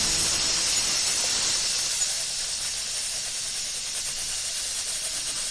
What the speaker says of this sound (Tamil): cooker whistle வந்துருச்சே